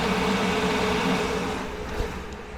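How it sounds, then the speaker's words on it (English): A Ford F450 pickup's 6.7-litre High Output diesel sits at high idle, a steady, even engine drone close by with no gaps or revving. "the truck is in high idle right now."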